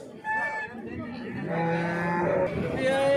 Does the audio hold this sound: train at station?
no